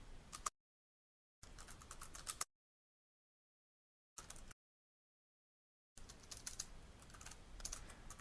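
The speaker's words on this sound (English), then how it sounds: "I'm just going to type onStatus level code." Quick bursts of typing on a computer keyboard while entering code, separated by stretches of complete silence, fairly close and clear with no voices.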